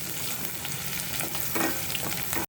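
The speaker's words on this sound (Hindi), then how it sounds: "अब हम इसमें डालेंगे स्प्रिंग अनियन के वाइट, जो हमने वाइट की स्लाइस में काट लिया था" Sliced spring onion whites hit hot oil with ginger and garlic for a steady, close sizzle, swelling into a louder crackling burst partway through, with faint stirring and no voices.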